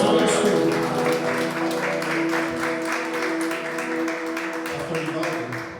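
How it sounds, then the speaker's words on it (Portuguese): A church congregation claps during a Tuesday worship service, steady applause blended with sustained tones and voices throughout. "Quem crê, aplauda Jesus."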